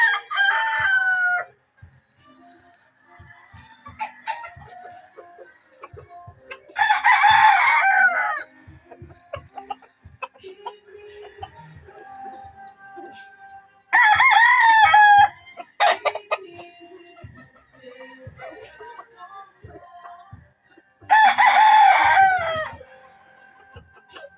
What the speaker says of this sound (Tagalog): Marami pala kami, may mga manok pala kami dito.